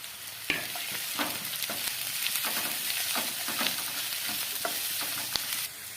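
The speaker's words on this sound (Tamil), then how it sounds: "மீடியம் ஃப்ளேமில் வச்சு ஒரு நல்ல ஒரு ரெண்டு நிமிஷத்துக்கு மேலேயே குடமிளகாயை வதக்கியாச்சு" Capsicum and garlic sauté over a medium flame, giving a loud, dense, continuous sizzle close by, with sharp clicks from stirring scattered throughout.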